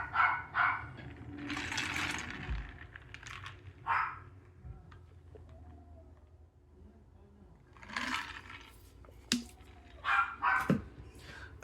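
A dog barks repeatedly indoors in loud bursts, stopping and starting over several seconds against a low background hum.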